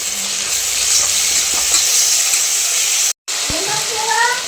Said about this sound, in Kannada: ಕರಿಬೇವು ಹಾಗೆ ಹಸಿಮೆಣ್ಸಿನ್ಕಾಯಿ, ಈರುಳ್ಳಿ ಹಾಕಿ ಚೆನ್ನಾಗಿ ಫ್ರೈ ಮಾಡಿ.